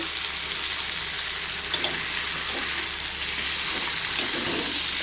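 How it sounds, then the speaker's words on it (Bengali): Jackfruit and potato pieces sauté in oil in a pan with a steady close sizzle, broken by a few light scrapes and taps of a spoon stirring. "আলুটা দিয়ে দিয়েছি, দিয়ে নিয়ে এটাকে একটু ভালো করে কষাবো।"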